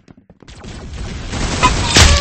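Rapid gunfire from the Roblox shooter game Arsenal crackles in a dense burst that grows louder toward the end, with no voices over it.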